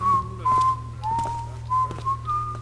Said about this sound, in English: There's that whistle again.